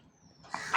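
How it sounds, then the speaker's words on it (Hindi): A pet dog barks while being fed with other dogs at home, giving two short, close barks near the end after a quiet start. "कौन भौंक रहा है?"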